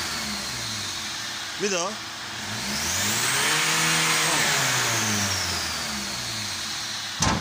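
An Opel jeep's 2.2-litre turbo engine with sooty carbon buildup, revved hard at full throttle, climbing to a rising whine that holds steady before dropping back, close and loud while someone speaks briefly over it.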